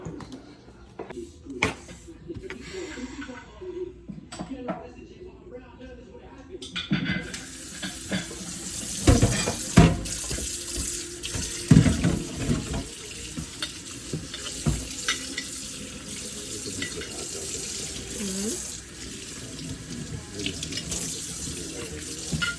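Tap water runs into a kitchen sink as raw shrimp are rinsed, a steady splashing wash with clinks and handling noises, louder in the second half, with occasional voices in the background.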